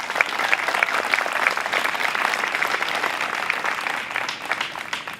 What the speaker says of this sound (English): Please, one more time, give our speaker applause.